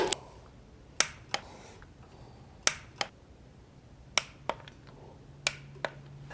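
A torque wrench set to 100 inch-pounds gives sharp, isolated clicks, about ten of them spaced irregularly across a few seconds, close and crisp over a quiet background.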